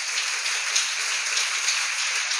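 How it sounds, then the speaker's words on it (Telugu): A church congregation claps hard together at a pastor's message, a loud, even wash of applause that keeps going throughout. "గట్టిగా చప్పట్లు కొడదాం ఒకసారి"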